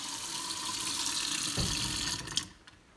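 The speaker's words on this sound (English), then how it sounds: "Kitchen faucet." Apartment kitchen faucet running water into the sink, a steady close rushing splash that shifts tone partway through, then is shut off with a few drips and clunks.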